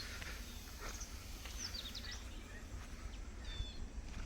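Birds chirp faintly near a riverbank, with a few short high calls scattered over a steady low rumble of outdoor background noise and no one speaking.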